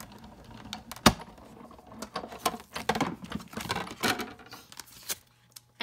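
Embossing folder sandwiched between clear cutting plates on a platform, cranked through a manual die-cutting machine, giving a rapid series of close clicks, creaks and rolling mechanical patter with a sharp snap near the start.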